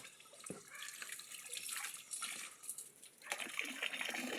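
Water trickles and splashes irregularly outdoors, with dripping and running flow, fairly faint and close, and no clear speech over it.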